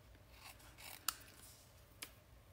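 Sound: scissors cutting paper edges

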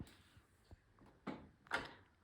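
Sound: toy kitchen drawer being opened or closed

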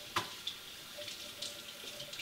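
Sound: kitchen sink tap running water onto cloth

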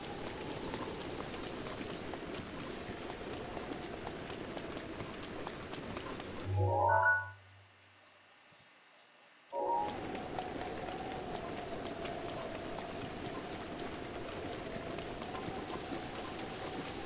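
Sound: rain in video game Zelda Breath of the Wild

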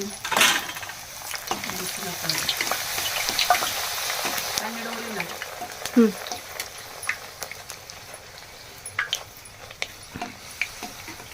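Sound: puris frying in hot oil

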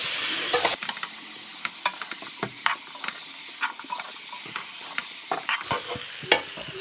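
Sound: chopped jackfruit stirred into masala in a pan

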